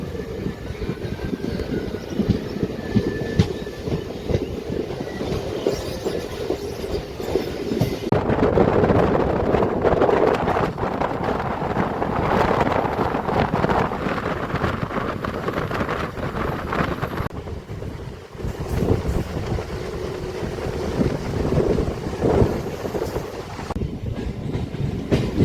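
A MEMU local train pulls out of Warangal railway station, a steady loud rumble of wheels and carriage noise with rattling, clickety-clack and wind buffeting throughout, no talking.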